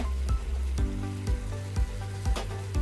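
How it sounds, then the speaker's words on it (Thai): Chili sizzles loudly as it is stir-fried in a hot pan for spicy Thai-style snapper. A steady frying hiss is broken by regular rhythmic scrapes of the spatula roughly every half second. "ผัดให้พริกสุกนะคะ พอหอมเลยนะคะ"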